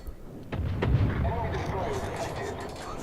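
Naval gunfire in World of Warships, the warship's guns booming in a heavy low burst near the start, then a rumbling roar that lingers under the battle din.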